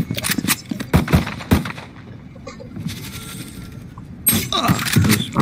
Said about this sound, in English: Like a moving pistol shot.